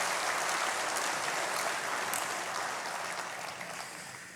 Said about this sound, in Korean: 하나님께 영광의 박수를 한번 돌려드리겠습니다